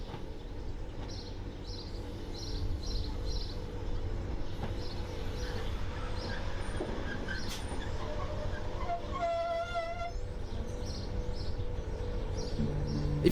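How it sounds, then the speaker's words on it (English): Heritage train passing through Blunsdon station on the Swindon & Cricklade Railway, a steady rumbling roll of wheels and carriages close by, with a brief squealing tone midway and birds chirping faintly over it. "There was just time to see the train pass through Blunsdon one more time before we needed to head off."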